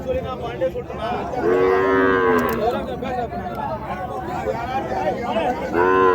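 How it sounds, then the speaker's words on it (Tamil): Cows moo in long, low calls at a cattle market in Uthangarai, one around the middle and another at the end, over a background of people chattering nearby. "ரெண்டுமே பசு மாடுங்க."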